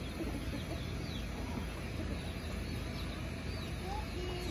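Free-range chickens cluck while pecking at scraps outdoors, their short clucks scattered through a constant wash of background noise with no talking.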